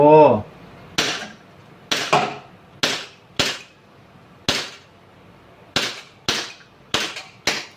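A Glock 26 Gen5 gas pistol, repaired for a leaking magazine, fires nine sharp, loud cracks at uneven intervals of about half a second to a second, after a short voice at the start.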